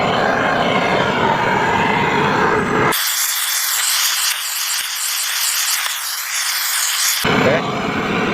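A handheld gas torch used during a honey harvest is lit with a lighter and burns with a loud, steady hissing roar that starts abruptly and holds for several seconds before cutting off.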